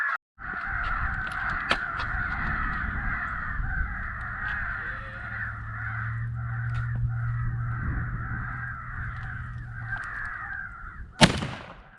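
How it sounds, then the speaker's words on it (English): Crows cawing outdoors in Kansas during crow season, a dense, continuous chorus of harsh repeated caws from several birds, loud and fairly close, ending in a sharp loud bang. "But I got home and I saw a few crows."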